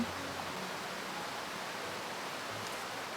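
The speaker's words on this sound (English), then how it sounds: "Sorry, that waterfall is so loud." Steady broadband rush of a waterfall in the video game Little Witch in the Woods, constant and fairly loud, with faint low game tones drifting underneath.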